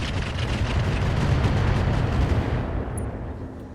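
Swarm missiles exploding in the Roguetech mech game, a loud continuous barrage of overlapping blasts and rumbling detonations at close range that fades slightly toward the end, with no talking.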